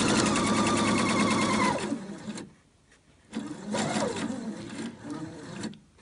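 A sewing machine stitching bias tape onto fabric, a loud, fast mechanical whirr heard close up that runs steadily, stops, then starts again in shorter bursts, with no talking.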